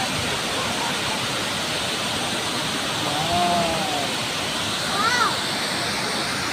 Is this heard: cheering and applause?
no